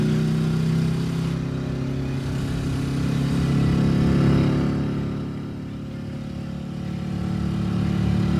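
A motorcycle accelerates on a 1973 spoken-word record, its mid-range engine drone swelling and fading in broad waves, steady and moderately loud with no voices over it.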